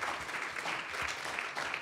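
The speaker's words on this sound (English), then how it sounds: "thank you for the applause" Audience applause at a career panel event, a soft, steady patter of clapping from a crowd, fairly faint and distant, with no talk over it.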